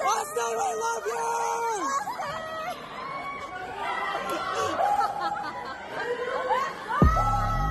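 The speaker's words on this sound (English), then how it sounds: "What you're about to hear is the sound of my friends yelling at the top of their lungs." Friends yell and cheer loudly at a dance showcase, a dense crowd roar of shouting voices and laughter filling the whole stretch, with a brief low thump near the end.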